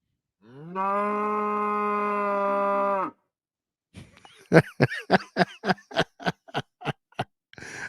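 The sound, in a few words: cow mooing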